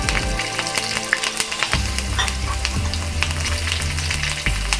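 Slit green chillies hit hot oil for Punjabi chole, bursting into a loud, steady crackling sizzle with dense spitting pops that continues throughout, close up and without talk.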